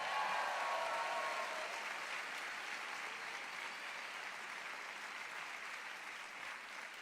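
Dense, steady applause fills the space from a large crowd at a Bernie Sanders and Keith Ellison political rally in Minnesota, with a brief cheer at the start before the clapping settles and slowly eases.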